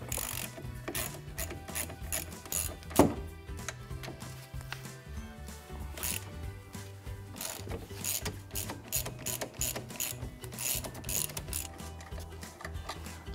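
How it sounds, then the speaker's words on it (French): A ratchet with a 12 mm socket loosens the brake caliper bolts on an Aixam or Microcar microcar during a brake pad change, giving fast, steady, close metallic clicking that runs almost continuously, with one sharper knock partway through. "Munissez-vous de votre douille de 12, plus votre cliquet, pour démonter la vis supérieure et la vis inférieure."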